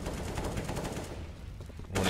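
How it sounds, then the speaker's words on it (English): Gunfire from a Counter-Strike match on the Mirage map: a sustained, fairly loud volley of rapid shots, ending in a sharper, louder burst. "Warning shots from Robs, but he doesn't manage to get any kill."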